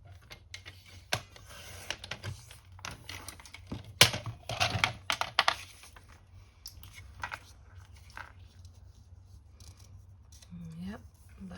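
Scissors cut a small chipboard box in a quiet room. Scattered snips and crunches come close and fairly clear, with a denser flurry in the middle, then sparse handling noises.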